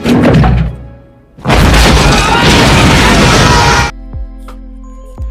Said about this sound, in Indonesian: terjadi ledakan besar yang menghancurkan jam besar tersebut